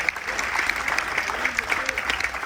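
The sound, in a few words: audience applause at a military tribute on a cruise ship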